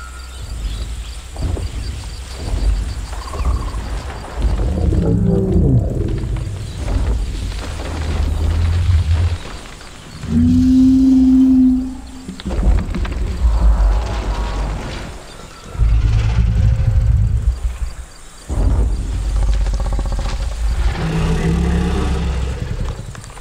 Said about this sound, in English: We would like to show you the updated vocals of Camarasaurus